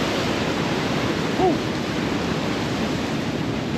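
Large ocean waves break at Tanah Barak beach in Bali, where cliffs rise behind the shore. The surf makes a steady, close roar that fills the whole stretch, with only a faint brief tone rising above it.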